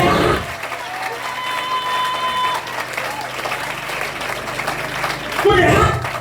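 A church congregation applauds and cheers in praise during a French-language worship service, a sustained clatter of many hands with crowd voices mixed in, rising again loudly near the end.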